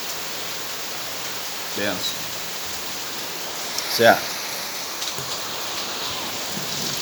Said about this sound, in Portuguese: Olha que chuva que está dando aqui, ó.